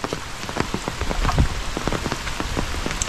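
Steady rain pattering on a surface, dense drops falling close by with a constant wash of noise, no voices.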